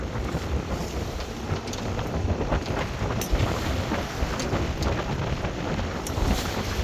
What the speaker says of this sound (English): There's big waves here in the bay.